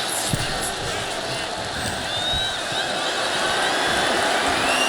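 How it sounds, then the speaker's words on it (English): Wrestling arena crowd at a WWE SmackDown show roars in a steady, dense wash of cheering and babble, with a few sharp thuds near the start, continuous and loud throughout. "Starting to get this crowd involved."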